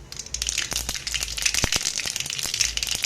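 Mustard seeds crackling in about four tablespoons of hot oil in a kadai for potato palya, a dense run of sharp close pops and spits over a low hiss.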